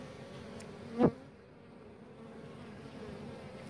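Honeybees at a hive entrance fitted with a queen excluder, a low steady hum of many insects with one louder close buzz as a bee flies past the microphone, no talk.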